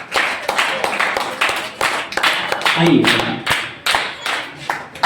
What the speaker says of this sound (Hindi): एक बार जोरदार तालियां आ जाए सैफ भाई के लिए